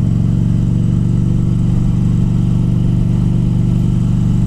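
A motorcycle engine drones steadily at riding speed, heard from a helmet-mounted camera with the visor closed, the low rumble and wind roar continuous and loud throughout with no pauses.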